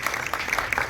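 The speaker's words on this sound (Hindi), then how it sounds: "एक बार जोरदार ताली चाहिए निधि के लिए" A short burst of dense audience applause for Nidhi at a Border 2 teaser launch event, loud and steady throughout.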